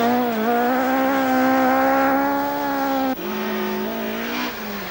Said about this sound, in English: Seconds are vital as the rented Escort is thrown through the forests.